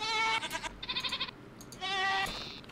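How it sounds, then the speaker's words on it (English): Goats in the Minecraft Technic modpack giving several wavering bleats in quick succession, clear and fairly close, with a short gap between calls and no speech over them. "Goddamn goats."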